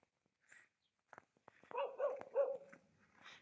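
A dog in an outdoor town centre gives a short run of barks and whimpering yelps, moderately close, after a few faint clicks.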